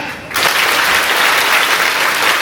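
A classroom of students claps together in a loud, dense burst that starts abruptly and continues steadily without pause.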